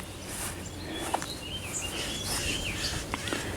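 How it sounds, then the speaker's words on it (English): Birds call at night along a butterfly nature trail, thin chirps and short whistles scattered faintly over a steady hiss of background ambience, with occasional brighter tweets standing out. "it's the birds at night, isn't it?"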